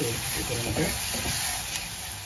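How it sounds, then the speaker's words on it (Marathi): Ground masala paste sizzling in about two tablespoons of hot oil while a spoon stirs it, making a steady close frying hiss with soft scraping strokes, no one speaking, for Maharashtrian batate bhaat. "हा वाटलेला मसाला आपण सगळ्या तेलात टाकायचा, चांगला परतवायचा"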